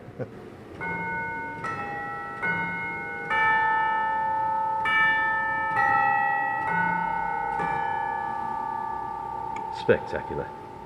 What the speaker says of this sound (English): It has chimes here, which would put Big Ben to shame.